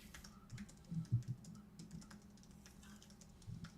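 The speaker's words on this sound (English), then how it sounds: "just typing" Soft, close typing on a computer keyboard, a quiet patter of irregular keystrokes with a brief flurry of louder taps partway through, heard alone without voices.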